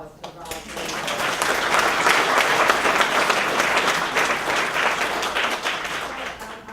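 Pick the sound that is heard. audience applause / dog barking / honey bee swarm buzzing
audience applause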